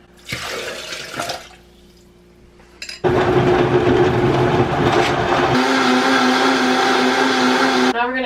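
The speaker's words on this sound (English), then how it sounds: "We're going to add it to our blender." After some brief handling noises, a blender roars to life nearby and runs loudly and steadily, its motor pitch shifting partway through, blending ingredients for Mexican picaditas.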